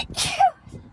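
A single close sneeze bursts out sharply, followed by a quieter exhale, with faint talk at the edges.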